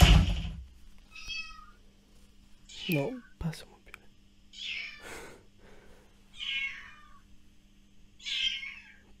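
A small lost kitten, found in a rubbish bin and heard from a cellar, gives several high, drawn-out meows spaced every second or two, moderately close, while a person speaks quietly between the cries.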